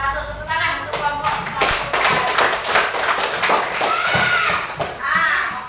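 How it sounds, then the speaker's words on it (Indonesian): A classroom of children claps for a group, a loud run of quick, overlapping hand claps lasting several seconds, with children's voices chattering through it. "Tepuk tangan untuk kelompok"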